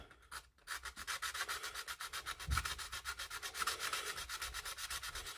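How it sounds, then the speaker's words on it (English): Filled areas on an Airfix Boeing B-17G plastic model kit are sanded by hand, a close, steady, rhythmic rasping rub of quick back-and-forth strokes throughout, with no talking. "get these all sanded off these bits where I've filled in"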